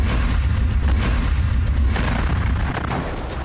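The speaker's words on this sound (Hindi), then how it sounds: "इसी बम से जबालिया कैंप के पूर्व में एक मरकवा टैंक पर हमला करके उसके चीथड़े उड़ा दिए" A GBU-38 bomb strikes a Merkava tank east of Jabalia camp, a loud, sustained rumbling blast with deep booming low end and a crackling wash that fades slightly toward the end.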